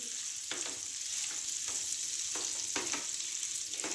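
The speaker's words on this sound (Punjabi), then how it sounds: "ਲੋ ਫਲੇਮ ਤੇ ਹੌਲੀ ਹੌਲੀ ਮੈਂ ਇਹਨੂੰ ਭੁੰਨਦੀ ਰਾਵਾਂਗੀ" Amla (Indian gooseberries) roasting slowly in a pan over a low flame, a steady soft sizzle close by with periodic scraping stirs and rattles of the fruit rolling in the pan.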